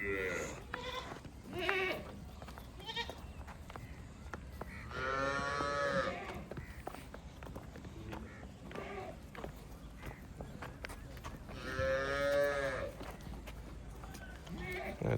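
Cows and heifers on a farm, including a crossbred heifer, low out in two long, loud moos at intervals, with softer livestock sounds and shuffling filling the gaps between them.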